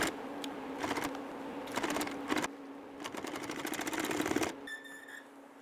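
A sewing machine stitches heavy firewood sling material in rapid mechanical bursts, stopping and restarting several times, close and clear, ending with a short high whine.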